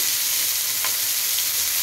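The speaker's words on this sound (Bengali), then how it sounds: "এবার অল্প একটু পনির আমি ভাজা করে নিচ্ছি" Paneer pieces frying in a pan with a little turmeric and salt make a dense, even hiss of sizzling oil, close and continuous with no talk.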